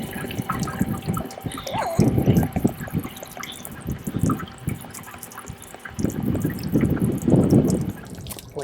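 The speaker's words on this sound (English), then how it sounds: "We're going to give a little flush" Water gushes in uneven surges as an RV's hot water heater is flushed of sediment. The splashing bursts come and go, with quieter dripping between them.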